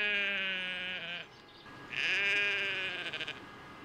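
Two clear sheep bleats, one after the other with a short pause between, close by and loud against a quiet background.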